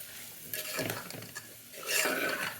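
Ivy gourd (dondakaya) with tomatoes frying in a pan, a spoon scraping and stirring in two bursts over a soft sizzle, fairly close and quiet.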